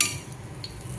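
Colocasia leaf rolls (aluwadi) being flipped in a pan as they fry on low heat: brief scraping and clinking of a utensil against the pan over a steady background.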